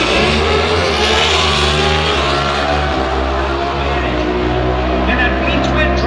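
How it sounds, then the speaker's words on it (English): A pro stock motorcycle's V-twin engine runs loud and steady at a drag racing event, a dense continuous roar that swells slightly as it revs, with a commentator's voice over it. "Now that the bike is running."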